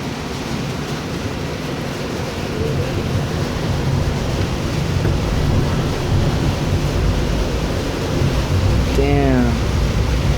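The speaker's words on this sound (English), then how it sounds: "hail is falling hard." Hail falling hard outdoors in June, heard as a dense, steady roaring patter that swells slightly over time, with a brief voice rising through it near the end.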